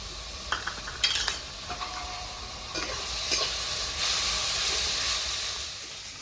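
Ginger, garlic and green chilli paste sizzles and hisses in a hot pan as a spoon stirs and scrapes it with a few sharp clacks.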